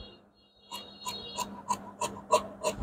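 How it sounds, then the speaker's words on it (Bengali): Scissors snipping through blouse fabric while trimming the armhole curve during tailoring, a quiet run of about seven regular rasping cuts, close by and faint, with no talk. "এই যে আমি এখানে তালপাত কেটে নিচ্ছি।"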